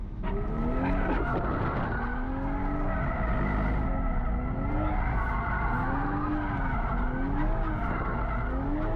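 A Toyota GR Supra drifts in a consistent circle with tires squealing continuously, the engine note rising and falling in waves as the car steps out and is reined back in, loud and close throughout.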